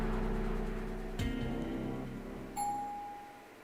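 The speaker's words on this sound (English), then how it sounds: "The gentle chime of the elevator shatters the silence." A soft elevator chime from the visual novel Tsukihime, a single clear tone ringing out and fading over a low humming background, with no voices.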